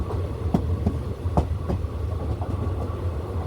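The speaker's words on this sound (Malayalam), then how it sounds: "തിരുവല്ലയിലേക്ക് ട്രെയിൻ എത്തിയിരിക്കുകയാണ്" The Velankanni Express, a diesel train, rolls into Thiruvalla station with a low engine drone and a steady clickety-clack of wheels over rail joints, close and continuous.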